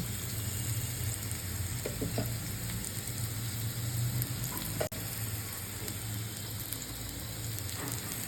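Bitter gourd frying in a pan with onion and shrimp, a continuous soft sizzle with a few light stirring clicks and one sharp tap, fairly quiet and close.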